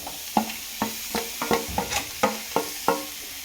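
Vegetables frying in ghee are stirred with a utensil, about nine sharp scraping strokes in an uneven rhythm over a soft continuous sizzle, close and clear.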